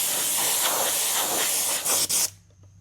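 Candy paint is sprayed onto an RC crawler body, a Vanquish, as a loud, close aerosol hiss lasting about two seconds, with brief breaks near the end, before it stops into quiet.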